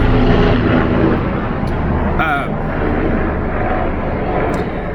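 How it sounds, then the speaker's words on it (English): A helicopter drones loudly and steadily overhead, its rumbling engine filling the whole stretch while a person speaks over it. "Sorry, helicopter flying over."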